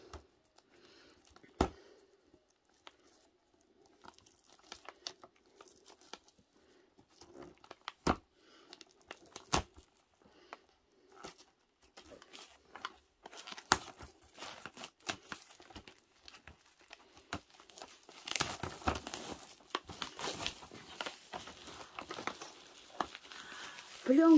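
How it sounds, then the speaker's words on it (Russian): Plastic film peeled off a Milka chocolate advent calendar, with sparse crinkles and sharp snaps at first building into dense crackling and tearing near the end, close and fairly quiet. "Сейчас мне нужно снять пленку."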